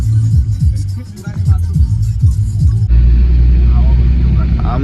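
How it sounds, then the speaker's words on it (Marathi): A makeshift homemade jugaad vehicle at a farmhouse rumbles with a deep, steady engine drone. Its low throbbing pulses continue throughout while people talk nearby. "आमची जुगाडू गाडी"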